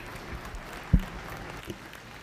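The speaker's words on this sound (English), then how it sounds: "let's give these kids one more big round of applause" Applause from an audience at a 4-H/FFA dairy cattle showmanship event for young showmen, a soft, fairly distant patter of clapping under a low crowd murmur, with one louder thump partway through.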